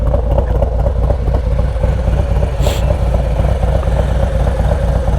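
A Harley-Davidson motorcycle idling while parked, a loud steady low rumble with an even mechanical patter, close to the microphone and alone apart from a brief faint hiss.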